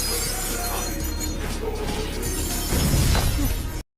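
In an anime, a window's glass shatters loudly as a character leaps through it, a dense, bright crash of breaking glass lasting several seconds before cutting off abruptly.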